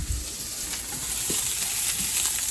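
Onion fries over low to medium heat in a pan for cauliflower rice, a soft continuous sizzle with occasional light clicks close by, no voices.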